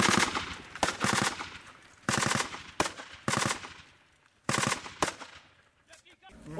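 Rifle fire during a combat contact in Afghanistan comes in loud, sharp bursts and single shots, separated by short quiet gaps, fairly close.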